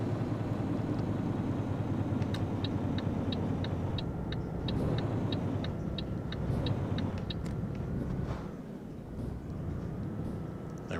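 A heavy truck in Euro Truck Simulator 2 rumbles steadily as it slows, its low engine drone easing off near the end, with a regular series of faint ticking clicks running through the middle.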